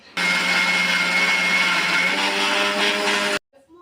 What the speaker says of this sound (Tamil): ஒரு மிக்சி ஜாரில் கொஞ்சமாக நம்ம எடுத்து வச்ச அந்த பழைய சோறு, அரிசி ரெண்டையுமே ஒன்றாவே கலந்து நம்ம அரைச்சி எடுத்துக்கிடுவோம்.